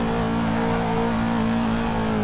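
Corvette C8 engine in Assetto Corsa pulling hard under acceleration, a loud sustained mid-pitched engine roar with steady rising harmonics and no talking.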